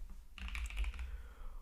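Faint, quick keystrokes on a computer keyboard patter in a short run of clicks, alone with no talking.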